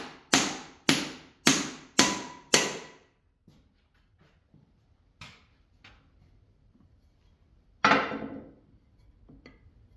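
Five sharp, evenly spaced hammer blows ring out close by on metal while scrapping large electric motors for copper, then quieter scattered knocks and one heavier impact later on.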